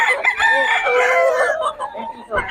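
Six-month-old young rooster, a stag, crowing in a single strained, wavering call close by, with faint background noise and brief voices around it.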